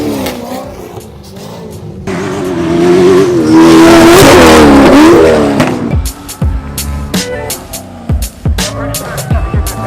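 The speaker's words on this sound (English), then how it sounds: "they made us move because the dude wanted to jump the truck there" A truck at a dirt jump event revs its engine hard, rising to a loud roaring peak before dropping off into rough, uneven bursts and clatter, close and dominant.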